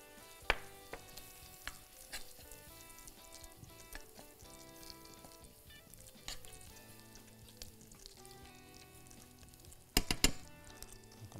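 Onion and a spoonful of flour fry in a pan, giving a continuous soft sizzle with occasional clinks and scrapes of stirring, and louder clatter near the end.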